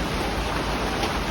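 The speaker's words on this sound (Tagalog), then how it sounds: "Lumakas na yung ulan." Heavy rain pouring steadily in Japan under a dark, overcast sky, a dense unbroken hiss with no voices.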